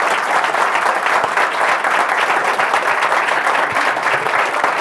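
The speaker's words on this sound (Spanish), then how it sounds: "Un aplauso para ellos, por favor, por estar presentes aquí." Steady, loud applause from an audience at a university hall hosting a debate between candidates for provincial deputies in Chubut, Argentina, continuous dense clapping for about five seconds.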